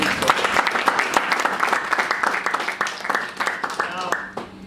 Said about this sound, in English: The organizers and the team of partners, we should give them a round of applause for doing so.